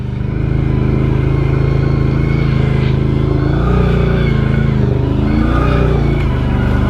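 An ATV on 30-inch mud tires crawling slowly in two-wheel drive, low range, on a mud course: a loud, close, continuous engine drone with small shifts in pitch and no pauses.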